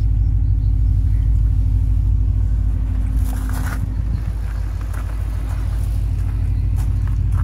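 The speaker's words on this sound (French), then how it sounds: "c'est une auto qui tourne absolument comme une horloge" A Ford Mustang Shelby GT500 Super Snake tribute idles with a deep, steady rumble, close and continuous throughout, with a brief rougher scraping patch in the middle.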